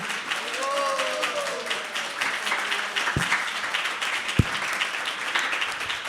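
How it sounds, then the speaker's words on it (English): Audience applause at a devotional planning meeting, moderate sustained clapping from a room of people, with a couple of sharp knocks and brief voices mixed in. "Give a big round of applause to..."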